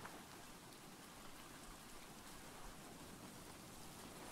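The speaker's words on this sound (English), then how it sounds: "Ah, it's raining in the game." Rain in the survival video game Stranded Deep falls as a steady, dense hiss of drops, faint and unbroken, with no voices over it.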